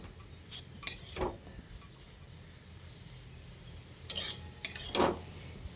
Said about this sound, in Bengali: তারপর আবারও ভালো করে নেড়ে চেড়ে নিচ্ছি।